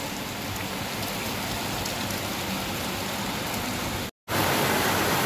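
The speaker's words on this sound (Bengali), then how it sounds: "কত বৃষ্টি হচ্ছে, কত বৃষ্টি পড়ছে" Heavy rain with strong wind roars in a continuous, loud wash of noise, broken only by a brief dropout near the end.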